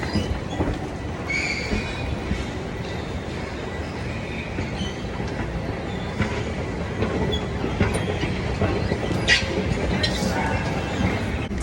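A subway train pulls in with wheels squealing on the rails over a steady rumble and clatter, loud and continuous, with faint talk in the background.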